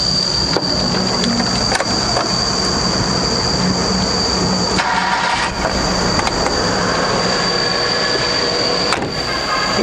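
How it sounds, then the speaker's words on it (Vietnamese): A Mitsubishi Jolie engine idles after starting, giving a steady, continuous mechanical hum with faint metallic whine, close and even throughout, with no voices. "bản chất của cái dòng xe máy Joyli này thì nó êm thôi"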